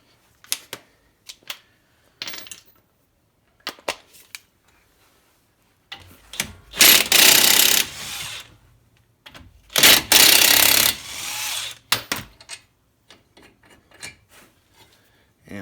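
A ratchet with a 19mm socket removing a bracket from a Honda Ridgeline front end, sharp isolated clicks followed by two loud bursts of rapid ratcheting and then scattered metallic taps.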